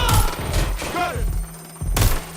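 Gunfire from a hostile target in a shooter video game, heard as several sharp broadband bursts at the start, middle and near the end, loud and close, mixed with game sounds and a brief voice.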